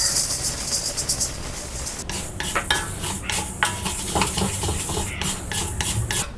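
Red rice dry-roasting in a pan for a multigrain health mix powder, the grains rustling and scraping under steady stirring, with a brighter run of hiss early on and repeated clicks of the spatula against the metal throughout, no talking.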